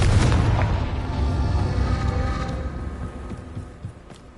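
Booming fire spell blast from Hogwarts Legacy near a crumbling tower, a heavy low rumble that hits loud at the start and rolls on for several seconds as it slowly fades.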